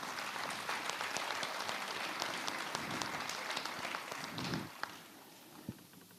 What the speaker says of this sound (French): On peut les applaudir à nouveau, je crois.